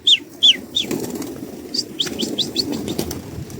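Wings flap in a few quick bursts up close, with high chirps scattered through a steady outdoor background of low rumble.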